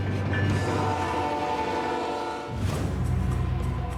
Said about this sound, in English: We get it shipped out on the freight train. The train heads north.